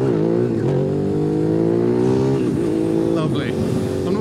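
A 2005 Suzuki SV650 motorcycle pulls hard along a public road, its engine droning loud and close as the revs climb and briefly dip, with wind rush throughout and someone talking over it.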